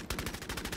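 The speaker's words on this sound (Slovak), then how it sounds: "Tak s týmto gulometom sa tak na figu strieľa." Machine gun in the video game Vampire: The Masquerade – Bloodhunt fires a rapid, loud burst of about eight evenly spaced shots in under a second; no talking.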